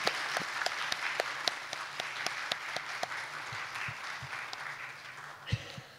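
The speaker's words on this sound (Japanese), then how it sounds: "パネリストの方にもう一回盛大な拍手よろしくお願いします。" Conference attendees at a national mountain-rescue meeting give a warm, sustained round of applause for the panelists, with one nearby pair of hands clapping in a clear steady beat over the crowd.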